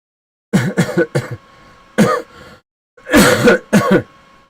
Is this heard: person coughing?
yes